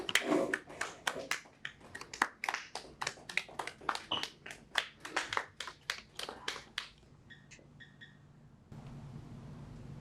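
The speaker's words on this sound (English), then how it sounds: "So can everybody get a big round of applause for Andre?" A small scattered group clapping for Andre at a summer theatre performance, a string of individual separate claps that thins out and stops, followed by quiet background noise.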